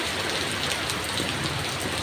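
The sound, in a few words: heavy rain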